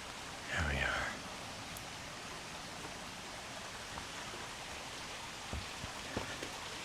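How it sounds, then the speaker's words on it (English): Steady rain falls at a mountain temple in Japan, a soft continuous hiss of drops on surfaces with occasional nearer drips, faint and even throughout. "the rain's getting a little bit stronger"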